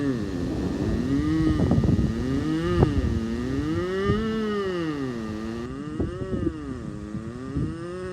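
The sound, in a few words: voice imitating a car revving up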